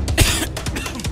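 A person coughs in a short burst of several harsh coughs, close and fairly loud, in a staged comedy scene about lockdown quarantine.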